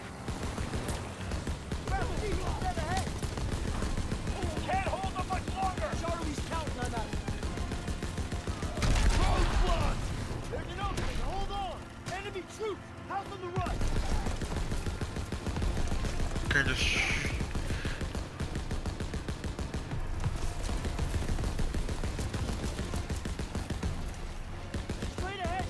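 A vehicle-mounted gun in the Call of Duty: WWII Operation Cobra campaign fires in repeated bursts and rattling volleys amid battle noise and engine rumble, with game voices and talk mixed throughout.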